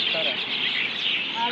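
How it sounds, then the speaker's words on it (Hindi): Birds chirp in coconut trees, a dense, continuous high twittering chorus at moderate distance, steady throughout the short stretch. "दोस्तों यहाँ पर कोकोनट ट्रीज पे चिड़िया है"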